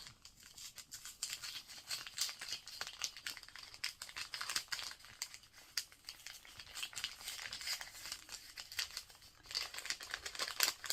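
Gift wrapping paper being torn and unwrapped from presents, a steady stream of close crinkling, rustling and crumpling with sharp tearing bursts, continuous for the whole stretch with no talk.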